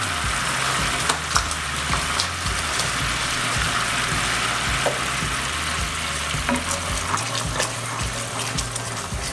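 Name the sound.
butter added to pan sauce, sizzling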